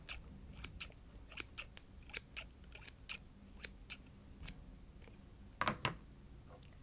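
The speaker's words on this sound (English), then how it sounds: "You will also need a pair of scissors" A pair of scissors is handled and snipped in a quiet craft setting, giving a string of crisp, close, isolated clicks and cuts at an irregular pace, with a slightly busier cluster near the end.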